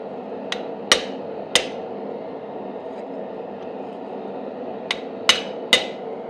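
Hammer blows drive a wide chisel into hot forged steel on an anvil, a pair of sharp ringing strikes, then a pause and three more, close and loud over a low steady forge roar.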